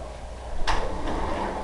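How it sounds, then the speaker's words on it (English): A house's back door is opened at night, giving a single soft sliding or latch-like sound midway, heard over steady background hiss. "Almost forgot to open the back door."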